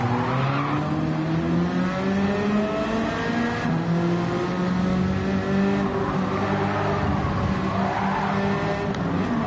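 A Honda Integra race car in a racing video game, its engine droning and rising in pitch through revs and gear changes, with tire squeals layered over the steady, loud whine.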